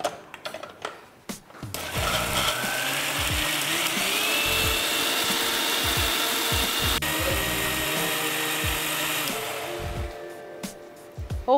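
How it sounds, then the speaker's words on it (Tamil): A mixer grinder whirs loudly, grinding crab masala with two green chillies and a little water into a fine paste. The motor starts after a few short bursts, runs steadily, then cuts out in brief pulses near the end. "இதை வந்து இப்போ லேசாக தண்ணி விட்டு நல்ல ஒரு நல்ல நைஸ் பேஸ்ட்டாக அரைச்சிக்குவோம்."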